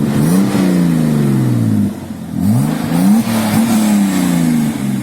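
BMW M50 engine with turbo kit and straight-through exhaust revved repeatedly to around 2000 rpm, a deep droning exhaust note rising and falling close by, with a brief dip between pulls.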